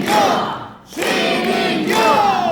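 A large crowd at a Daegu book-launch rally loudly chants a person's name in unison, the chant breaking off briefly and then resuming at full volume.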